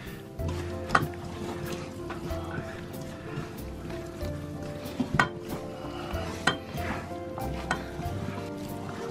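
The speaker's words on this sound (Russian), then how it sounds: "И все это помешаем хорошенько." A spoon stirs spicy Korean-style fish with paprika and chili in a pot, with steady scraping and clinking of metal on cookware and a faint sizzle underneath.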